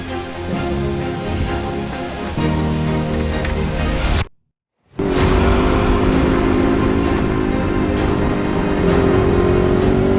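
An enduro motorcycle engine runs loud and close, briefly cuts out to silence, then restarts and revs up into a steady, rising drone in a wooded trail setting.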